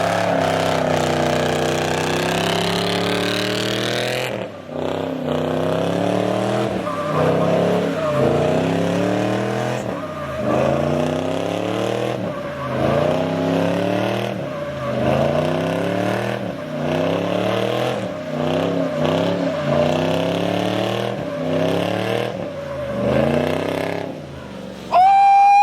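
Lifted 2020 Ford F-150 with the 5.0 V8 on 37-inch tires, driving and revving hard: a loud, close engine repeatedly climbing in pitch through gear changes, then dropping, in rhythmic surges over a long run.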